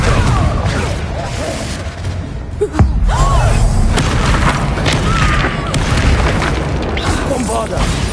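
Confringo fire spells burst repeatedly in Hogwarts Legacy combat, a dense loud barrage of booms and crackling impacts with a sharp thump near the three-second mark over a constant rumbling game soundscape.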